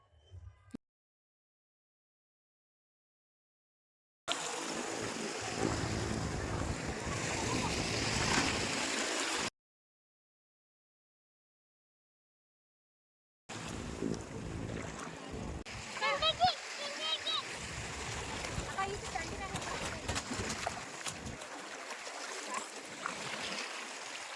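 Surf and splashing water at Miramar beach in Goa, heard in two long bursts separated by silence, with voices talking over the wash.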